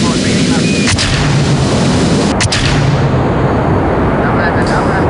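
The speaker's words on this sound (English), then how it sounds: "So we're going to begin the liftoff right now." Rocket liftoff in the space flight game Kerbal Space Program: a loud, continuous low engine roar filling the whole stretch, with a few brief sharp crackles, and some faint voice in the background.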